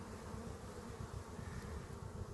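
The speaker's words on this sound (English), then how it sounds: "You watch these bees come in." Honey bees flying in to land at a hive entrance in March, some carrying bright yellow pollen, a constant low droning buzz with many wings at once, close but quiet, no voices.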